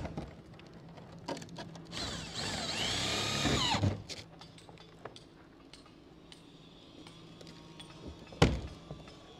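A power screwdriver drives screws into stone coated roofing tiles, a loud whirring burst of a few seconds followed by lighter clicks and taps and one sharp knock, close by.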